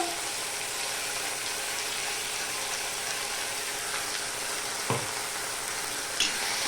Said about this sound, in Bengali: পেঁয়াজটা আমি এবার লাল লাল করে ভেজে নেব ভালো করে এই পেস্টটা